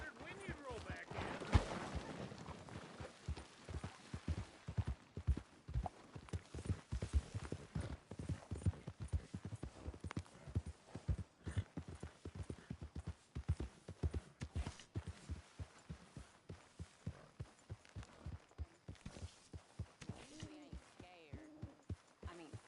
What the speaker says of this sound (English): Hey, get that horse out of here!